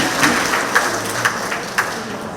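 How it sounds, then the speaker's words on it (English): An audience at a community centre meeting applauds in celebration of International Women's Day, a steady wash of many hands clapping at moderate distance, with a few louder claps standing out. "give yourselves a round of applause as we celebrate International Women's Day"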